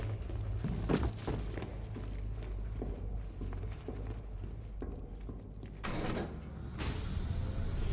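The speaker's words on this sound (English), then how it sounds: "Closing the vault door will contain the explosion." A heavy vault door in the Batman: Arkham Knight video game slides shut with a deep rumbling thud, followed by a second, lighter clunk, over a steady low mechanical hum.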